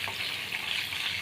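Curry leaves tempering in hot oil for festival pulihora prasadam, giving a steady, close hiss of sizzling with faint stirring throughout the short stretch.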